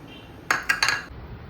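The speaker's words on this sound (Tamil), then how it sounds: "அரிசி இரநூத்தம்பது கிராம் கழுவிக்கிறோம் பச்சை அரிசி" A few quick metallic clinks and scrapes as raw rice is washed in a metal vessel, close by, with a soft watery swish underneath, then quiet.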